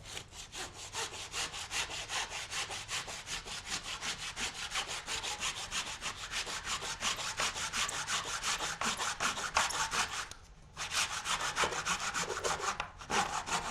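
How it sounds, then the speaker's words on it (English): A handsaw held flat against glue-down wood flooring cuts straight through it beneath a molding, with steady back-and-forth strokes that run continuously and close, broken by one short pause near the end. "Then just take a handsaw and hold it flat against the flooring and saw straight through."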